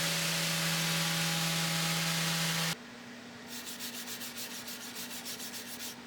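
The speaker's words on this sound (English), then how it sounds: "Here I'm sanding the edge of the live edges." Live edges of wooden cutting boards are sanded with a power sander that hums loudly, cuts off abruptly, then gives way to quieter rhythmic rubbing strokes.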